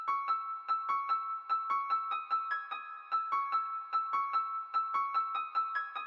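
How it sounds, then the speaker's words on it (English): Bright, high-pitched Purity acoustic piano notes in FL Studio plink out a steady repeating melody of quick, evenly spaced plucks, fairly soft and clean with short decays and no other sounds. "for the high-pitched piano notes, we're just using Purity and acoustic piano"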